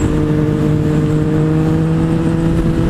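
A 2017 Yamaha FZ-09 (MT-09) motorcycle runs at quarter throttle, giving a loud, steady engine drone with a firm low hum and a constant whirring tone and no change in pitch, heard up close with no voices.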